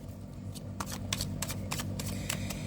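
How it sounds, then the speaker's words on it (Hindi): Tarot cards are shuffled by hand in quick, crisp riffles and slaps, close and fairly quiet over a soft steady background hum. "last shuffle"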